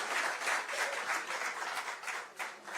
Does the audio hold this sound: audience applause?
yes